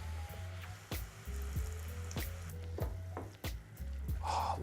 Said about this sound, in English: we're gonna add 1/2 cup of organic vegetable broth